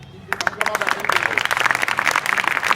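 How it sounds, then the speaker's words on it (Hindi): Students at Vidya Inter College in Hafizpur, Azamgarh break into applause for the school manager, starting with scattered claps that quickly swell into dense, fairly close clapping, with voices mixed in. "सबसे पहले तो आपके प्रबंधक साहब के लिए आप लोग ताली बजाएं"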